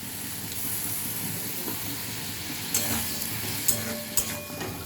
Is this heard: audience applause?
no